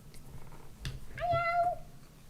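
A small, full-grown cat gives a single clear, drawn-out meow close by, preceded by a soft thud and faint room noise.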